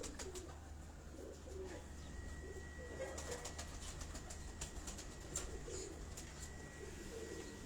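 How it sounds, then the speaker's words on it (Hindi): A Ferozpuri cross pigeon coos softly among other pigeons in a loft, with faint wing flaps and low background rumble and no talking. "फिरोजपुरी क्रास है ये फिरोजपुरी क्रास कबूतर"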